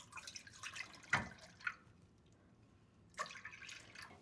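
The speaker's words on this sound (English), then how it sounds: "So if you pour some of the milk in here" Milk is poured into a pan while pastry cream is being made. Soft, uneven liquid splashes and drips come in a few short bursts, close and fairly quiet, with no speech.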